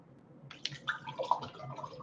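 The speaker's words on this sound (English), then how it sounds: "I'm washing my fingers." Fingers are rinsed under water at a desk, giving faint, close splashes, drips and small squishy rubbing sounds in quick irregular bursts with no talking.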